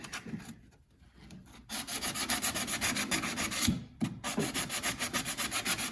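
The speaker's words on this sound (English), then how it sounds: "Now we're using 80 grit sandpaper to do this." Hand sanding car body paint off a dented panel with 80 grit sandpaper, fast rhythmic rasping back-and-forth strokes, close and loud, with a couple of brief pauses and no talk.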